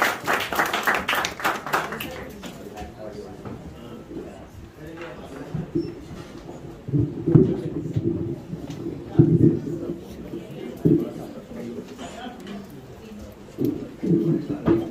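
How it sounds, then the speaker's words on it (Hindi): Audience at an Urdu mushaira poetry recital in a hall giving a short burst of clapping at the start, which fades as a voice begins speaking at the microphone. "आपकी भरपूर तालियों में"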